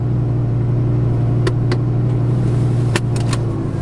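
An Audi R8 with a V10 engine and R-Tronic gearbox drives along, a loud steady low engine drone heard from inside the cabin, with a few faint clicks and knocks over the continuous hum.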